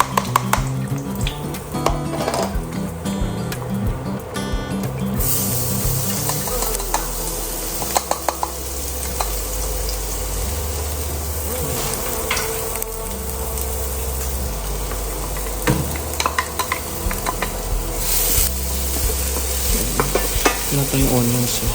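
Garlic sautéing in a pan for chicken pastil, a loud continuous sizzle with repeated scraping and stirring clatter from a utensil, close up and without speech throughout.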